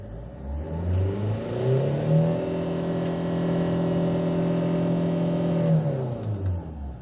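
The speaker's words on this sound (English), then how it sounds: "Okay, let's try to accelerate." A 2008 Kia Carnival eleven-seat diesel minivan with automatic transmission revs up, its engine pitch climbing and holding for several seconds before dropping away, clear and close with no talking.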